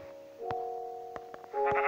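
A sheep in a parkour video game bleats twice, a tonal, wavering cry heard close and clear, with a few sharp clicks scattered between the calls.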